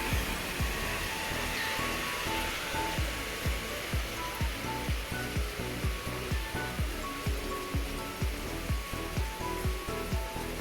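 Floodwater rushes through a street in the Philippines, a steady, loud broadband wash with a regular thumping pulse running underneath for the whole stretch.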